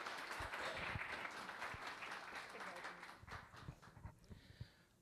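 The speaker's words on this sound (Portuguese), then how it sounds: "Uma salva de palmas, gente, para o Gilson" An audience claps for a speaker at a literary event in a hall, a dense patter of hands that thins out into scattered claps, with a voice briefly heard over it.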